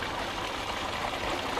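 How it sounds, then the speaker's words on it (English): Water tipped from a watering can into a bottle that feeds a pumpkin plant's roots in a garden, a continuous close gushing trickle, steady and fairly loud, with no talking. "So all I do is get the can and tip it in."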